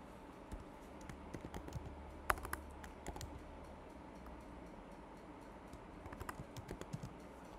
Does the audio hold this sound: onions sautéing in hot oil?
no